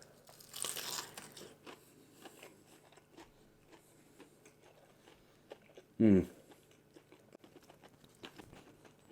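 Close crunchy bites into Jollibee fried chicken, one crisp crunch near the start and a louder, sharp crunch later, with quiet chewing between.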